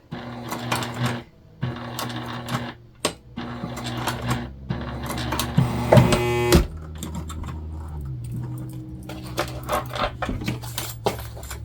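A sewing machine stitches through the bulky layers of a double border panel in start-stop runs, with taps and clicks between bursts and a busier stretch in the middle.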